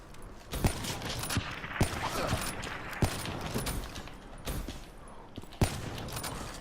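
Gunfire in the video game Call of Duty Black Ops III, a sniper match: a run of sharp shots spaced irregularly over a dense, steady game background at moderate level.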